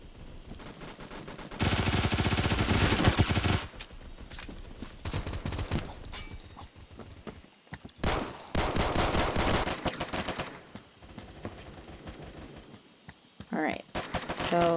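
Hip-fired gunfire in the Roblox shooter Phantom Forces, several long rapid automatic bursts with short pauses between them, loud and close, with a player talking over parts of it.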